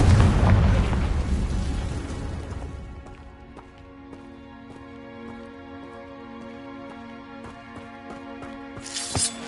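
A magic fire-blast spell in Hogwarts Legacy bursts with a loud, roaring explosion that fades into a lingering tonal hum, followed by a sharp pop near the end.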